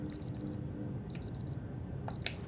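An alarm clock rings in the puzzle game Superliminal. It gives three bursts of rapid, high electronic beeping, evenly spaced over a low room hum, with a small click near the end.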